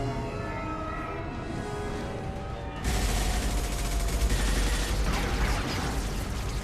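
Sustained gunfire in the video game Mass Effect 2, with dense overlapping rifle bursts and impacts that burst in loud and near after a quieter ambient stretch, continuing without letup.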